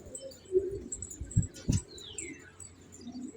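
Young pigeons make soft low coos and faint chirps nearby, with a few brief muffled calls and light rustling against a quiet background.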